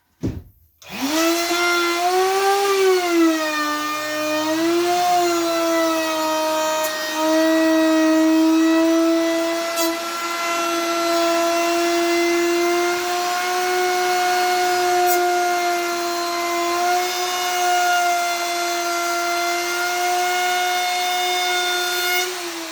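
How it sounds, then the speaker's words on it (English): A router cuts curved wood trim halfway through the material, starting with a sharp spin-up into a loud, steady high-pitched whine that wavers slightly as it moves along the cut. It runs continuously, close by and alone. "So now I'm going to run this around. I'm cutting down about halfway through the material."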